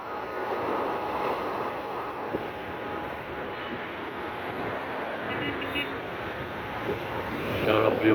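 Calm sea waves wash along the Alexandria shore in a steady, soft broadband rush with light wind noise, while a person speaks over it.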